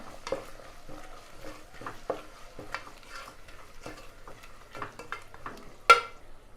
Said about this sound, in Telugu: దీన్ని కూడా కొంచెం వేయించుకుందాం